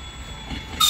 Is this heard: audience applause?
no